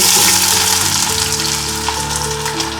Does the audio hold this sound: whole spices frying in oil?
yes